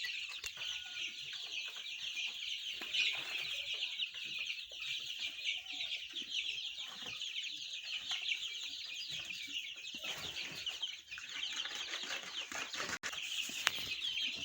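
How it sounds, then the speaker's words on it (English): Week-old-plus chicks on day 17 of brooding cheep in a brooder, a dense, continuous chorus of high peeping calls that stays steady and close for the whole stretch. "the chicks are getting big"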